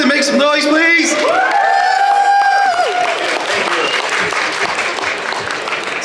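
A comic convention crowd bursts into loud applause, whoops and shouts for two panel guests, with cheering voices on top at first before it settles into steady clapping.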